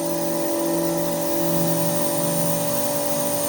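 A CNC machine spinning a tool to bore out two axle holes in a workpiece on a vacuum fixture, a loud, steady high-pitched whine with strong sustained tones and an even drone throughout.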